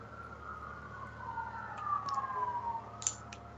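A police siren wails at a distance, its tone sliding up and down beneath a steady low hum, rising slightly toward the end before a few sharp clicks.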